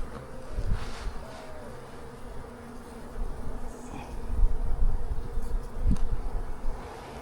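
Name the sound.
honeybees buzzing around an open hive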